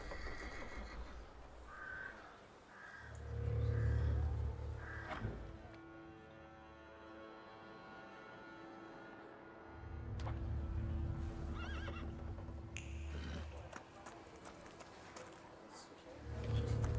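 A video game horse in Thaumaturge whinnies loudly over rapid clip-clopping hooves, bursts of galloping rising and falling around a long, ringing neigh.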